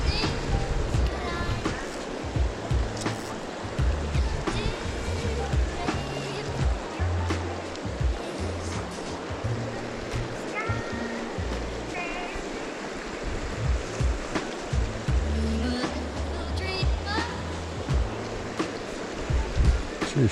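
Small spawning creek in the Alberta foothills flowing steadily with a broad, continuous rushing wash, close and fairly loud throughout, with faint scattered knocks and ticks over it.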